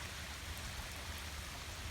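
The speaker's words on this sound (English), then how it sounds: "it stopped raining, but it's still coming down from the trees" Dense, steady pattering of water drops falling from trees onto leaves and ground after rain has stopped, a soft continuous hiss with no voices.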